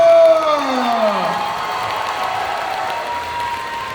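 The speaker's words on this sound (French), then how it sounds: "Je vous prie de faire un tonnerre d'applaudissements pour Akali de KDA." A crowd at a cosplay contest at Bordeaux Geekfest 2022 applauds and cheers loudly, with high whoops and shouts at the start over a broad, sustained roar of clapping that settles to a steady level.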